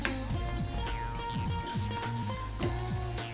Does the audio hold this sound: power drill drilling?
no